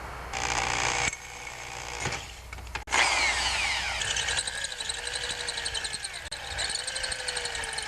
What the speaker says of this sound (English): So I've marked over here where I'm going to drill on the bike.